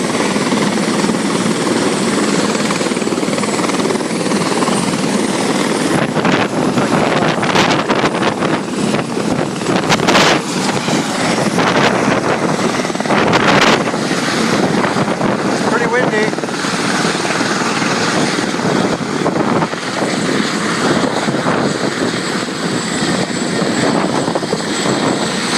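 Helicopter lifting off at Hilo Airport, a loud, steady rotor and turbine roar running close and continuous throughout, with brief surges in intensity partway through.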